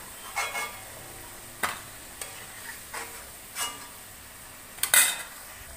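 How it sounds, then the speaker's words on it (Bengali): Paneer deep-frying in hot oil, with a soft background sizzle broken by intermittent stirring scrapes and light clinks of a utensil against the pan, one sharper clatter near the end; no speech. "পনিরটাও ভেজে নিচ্ছি, ছাঁকা তেলেই ভেজে নিচ্ছি"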